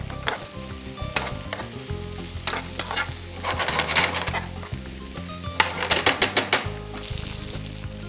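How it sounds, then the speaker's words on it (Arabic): Mushrooms and chicken fry in a pan with a loud, steady sizzle, punctuated by rapid clicking spatula strikes and stirring scrapes, close up with no voices. "الشامبينيون تاني رانا مقابلينه"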